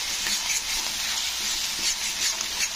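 Chopped medium-size onion frying in a pan is stirred steadily, a bright close sizzle with repeated soft scrapes and clinks of the spatula, alone without speech.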